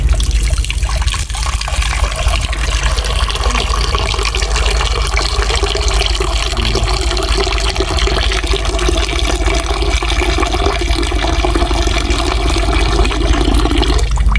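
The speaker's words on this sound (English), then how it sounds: "now we're going to cool down our salt mackerel by catching some water on top of it" Water pours steadily and loudly from close by onto salt mackerel in a pot, a continuous splashing rush that never lets up.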